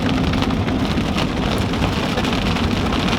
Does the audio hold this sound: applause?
no